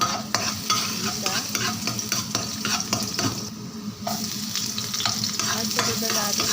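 Garlic sautéing in a pan for seafood pancit guisado gives a steady, close sizzle, broken by frequent scraping stirs of a utensil against the pan, with no voices.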